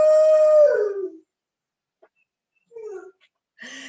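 Dogs howling indoors, a loud drawn-out howl that bends downward, followed after a pause by a shorter howl and a brief yelp.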